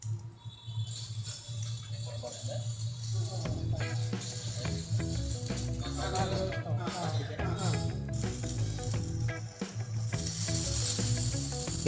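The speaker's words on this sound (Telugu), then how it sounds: "ఇదిగో దోశ వేగుతోంది." A dosa fries on a hot street-food griddle, a steady low sizzle and hiss running throughout with scattered scraping and clinking of utensils under busy background noise.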